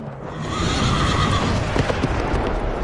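A fiery red horse neighs loudly, a long whinny followed by the rhythmic clip-clop of hooves, set against a dense, dramatic rumbling background.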